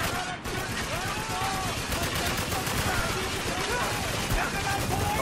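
Sustained turret gunfire from the video game Spec Ops: The Line, a dense continuous crackle of rapid shots at steady loudness throughout, with game voices and battle noise mixed in.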